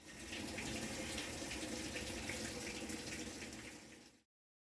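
Water pours steadily into a washing machine set to a delicate cycle, a continuous gushing hiss at low level lasting about four seconds before stopping abruptly.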